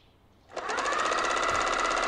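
A sewing machine starts up after about half a second of quiet and then runs steadily with a dense, fast mechanical buzz, loud and close, while costumes are being made for a cosplay event.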